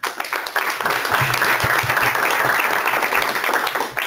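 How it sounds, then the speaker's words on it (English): Steady audience applause for a panel at a book launch, a dense, even wash of many hands clapping that holds for several seconds before tapering off. "with an applause."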